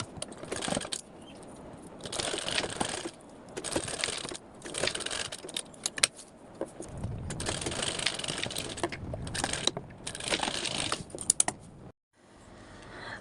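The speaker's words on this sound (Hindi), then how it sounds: "अब मैं इस पे चला लूँगी सिलाई।" A sewing machine stitches a blouse in bursts of rapid mechanical clatter, stopping and starting in short runs, close and fairly loud with no talk.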